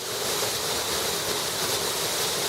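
A waterfall roars in a steady, dense, loud rush of falling water that fills the whole moment without pause or voices.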